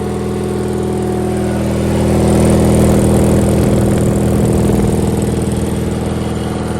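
A Sears GT 19.9 garden tractor's engine, started after sitting unused for two years, runs with a loud, steady, throbbing drone close by, swelling slightly midway and then holding even, with no talking.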